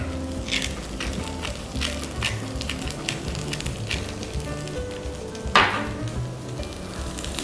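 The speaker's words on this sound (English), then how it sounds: "Just fry it off in a bit of butter is nice and full of flavour." Asparagus frying in butter in a pan, a close, steady sizzle with crackling bursts and a sharper spurt near the end, no talking.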